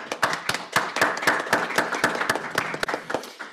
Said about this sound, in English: So a round of applause for the panelists.